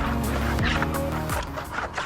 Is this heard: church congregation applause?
no